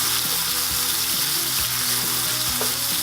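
Steak frying in a pan with garlic added on top, a steady loud sizzle filling the whole stretch with small crackles and spits, no voices.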